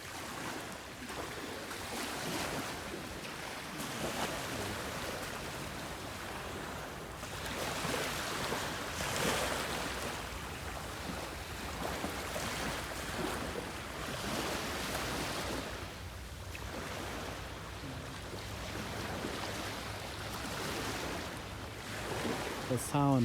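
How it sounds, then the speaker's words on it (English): Small, gentle ocean waves lapping the Port Phillip Bay shore, a continuous soft wash that swells and recedes in slow surges, with some wind noise on the microphone. "These are small waves."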